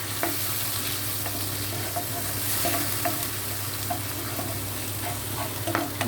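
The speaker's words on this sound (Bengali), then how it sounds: "এরকম মশলাটা কষাতে হবে" Spice paste with sour yogurt sautés in a pan, a dense continuous sizzle with occasional light scrapes of stirring, close and steady throughout, no voices.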